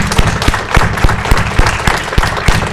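A conference audience at a security event bursts into loud, sustained applause, many hands clapping densely together with a few crowd noises mixed in, close and full throughout.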